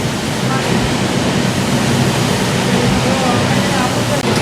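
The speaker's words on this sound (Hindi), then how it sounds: "बॉटल उल्टा हुआ और अंदर से पानी का जेट आता है, एकदम प्रेशर से पानी आता है" An automatic mineral water bottle rinsing machine sprays pressurized water jets inside upturned bottles, making a loud, continuous rushing hiss that holds steady throughout.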